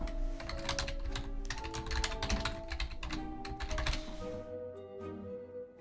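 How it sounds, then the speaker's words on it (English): Rapid clicking of a computer keyboard being typed on indoors, bursts of close keystrokes with short pauses between them, over a low steady background hum. "in case you were curious why that typing was happening"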